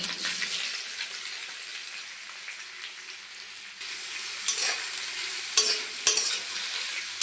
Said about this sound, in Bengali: এখন পেঁয়াজগুলো দিয়ে দিব।